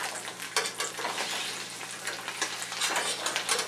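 Steady, bright sizzling of an egg frying in a pan, close and continuous with small crackling pops throughout.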